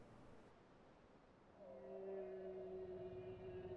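Stock whale call from the video game Final Fantasy 14, a low tonal moan that rises in and holds steady, moderately quiet with no talk.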